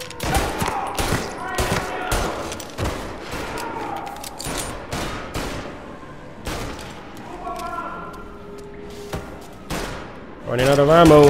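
Gunfire in the action game Mafia Definitive Edition, a tense exchange of shots in quick irregular bursts, loud and near, with a voice speaking among them toward the end.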